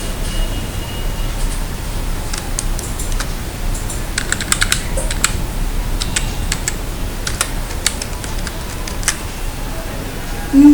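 Fast typing on a computer keyboard while entering accounting data in Tally Prime, bursts of crisp close key clicks over a faint steady hum.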